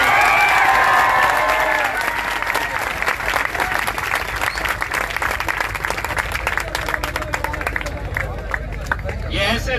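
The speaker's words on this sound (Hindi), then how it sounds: "जोरदार तालियां।" A crowd at a political protest sit-in outside a collector office in Aurangabad breaks into loud, dense applause and cheering that thins out toward the end, with voices murmuring underneath.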